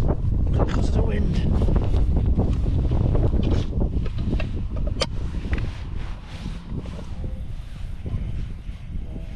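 Gale-force wind buffets a tent in a loud, continuous roar with heavy low rumble and flapping gusts, easing slightly toward the end.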